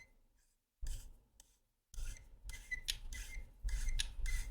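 Intermittent rasping, scraping bursts as a lightsaber handle is screwed onto a Korbanth Starkiller hilt, close and fairly quiet, with short gaps between twists and no talking.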